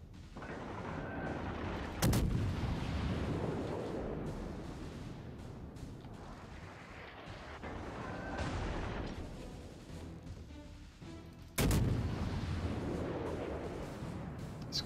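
Naval guns firing in the warship game World of Warships: two heavy, booming salvos about ten seconds apart over a constant rumbling battle din, loud and close, no talking.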